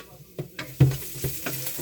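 Garlic sizzling in a pan, a soft frying hiss broken by a few clacks and scrapes of a stirring utensil, close and alone.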